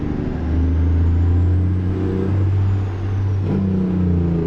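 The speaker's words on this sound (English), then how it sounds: "Hitting that rev limiter." A Cat diesel truck engine in American Truck Simulator drones loud, high and steady, bouncing against its rev limiter before dipping briefly and settling back, with no voices.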